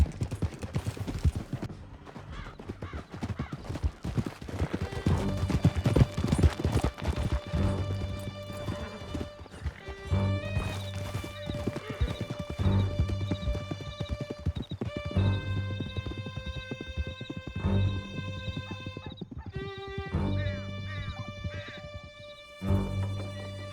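Several horses gallop hard in Red Dead Redemption 2 during an escape through a canyon. Their hooves pound in a dense, driving rhythm under sustained game music, with occasional whinnies.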